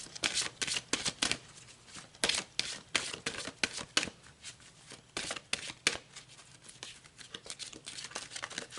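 Tarot cards shuffled by hand in close, crisp riffling bursts that come in quick irregular runs with short pauses, with no voices over them.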